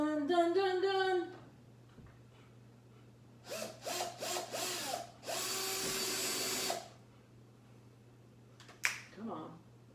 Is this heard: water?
no